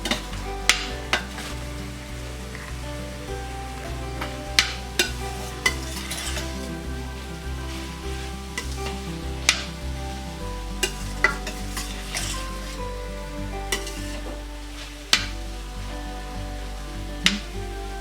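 Two beaten eggs are poured over shrimp and vegetables in a hot pan, sizzling steadily up close while a utensil stirs and scrapes at irregular intervals, with no talking.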